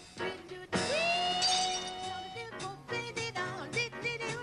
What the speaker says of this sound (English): Can the amplified voice of Ella Fitzgerald shatter this glass?